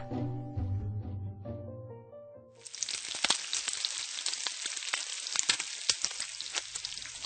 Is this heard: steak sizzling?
yes